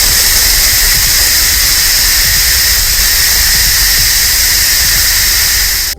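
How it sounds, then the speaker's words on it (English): An Instant Pot venting steam after pressure cooking lemon pepper salmon, a loud, steady high-pitched hiss running continuously close by for several seconds before cutting off abruptly. "Okay, steam has been released."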